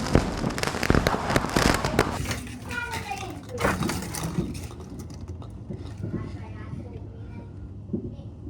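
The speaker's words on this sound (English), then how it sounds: "Fireworks. Wow. Amazing." Sharp Canada Day fireworks bangs burst out over a noisy outdoor scene, with children's voices and chatter mixed in, the pops loud and irregular before trailing off.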